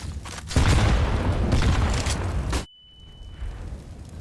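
Loud, dense grenade explosions roar through a Counter-Strike round on the Inferno map, a sustained booming burst lasting a couple of seconds that cuts off abruptly, followed by quieter game ambience with a brief high tone.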